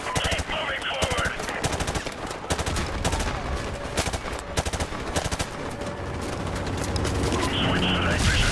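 Rapid machine-gun bursts and rifle fire crackle almost without pause in a Call of Duty 4: Modern Warfare Remastered battle, loud and close, with shouted voices mixed into the din.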